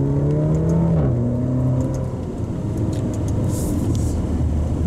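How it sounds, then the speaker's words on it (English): A Maserati Grecale GT revs up while accelerating in sport mode, its steady engine note rising and shifting pitch through a gear change, loud and continuous from inside the car with no talk. "You get the Alfa Romeo / Ferrari spit on the exit whenever it hits higher RPMs"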